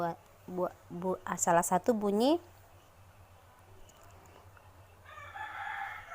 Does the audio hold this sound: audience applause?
no